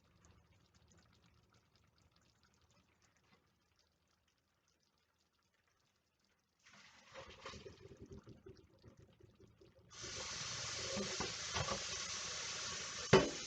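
Cooked spaghetti noodles are poured out of the pot to drain. Faint kitchen clatter gives way to a rush of water splashing, which becomes a steady, loud pour toward the end.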